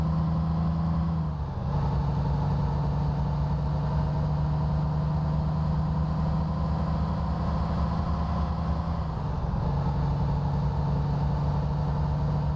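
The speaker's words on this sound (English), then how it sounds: "Just listen to that turbo whistle." A heavy truck's turbo whistles as a thin, high tone above a steady, loud engine drone in American Truck Simulator, holding on with a short dip near the start and another around nine seconds.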